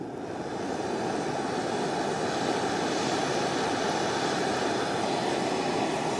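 Primus Omni-lite Ti camping stove burning on full blast, a steady even roar of the gas flame, close and continuous for the whole stretch with no talking.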